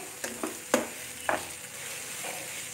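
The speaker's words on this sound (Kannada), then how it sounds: "ಇದನ್ನೆಲ್ಲ ಒಂದು ಒಂದು ನಿಮಿಷದಷ್ಟು ಫ್ರೈ ಮಾಡ್ಕೋಬೇಕು" Grated raw mango frying in a pan for chitranna, a soft steady sizzle with a few sharp scraping stirs of a spoon, close and quiet, with no voices.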